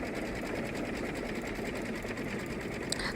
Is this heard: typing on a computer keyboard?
no